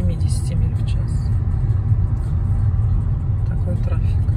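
A car creeps along at about 15 to 20 mph in dense highway traffic, its engine and tyres giving a steady low road rumble inside the cabin while people talk over it.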